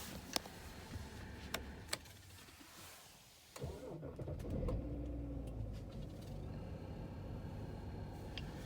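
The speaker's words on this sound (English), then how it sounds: "let's go for a true engine start" A car engine cranks after a few clicks and catches, settling into a low, steady idle that carries on quietly, with no talking.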